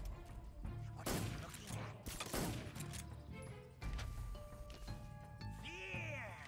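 Gunfire in Metal Gear Solid 3 sounds in repeated sharp bursts and impacts amid clattering mechanical game effects, with a person talking over the action.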